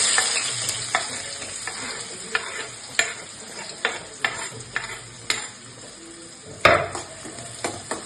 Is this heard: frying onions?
yes